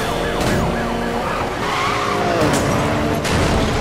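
Police car sirens wail and warble in the Need for Speed: Most Wanted video game during a chase with an Alfa Romeo, loud and layered over roaring engines and skidding tires.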